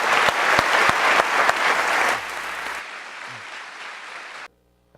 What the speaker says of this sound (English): let's have a big round of applause for our first panel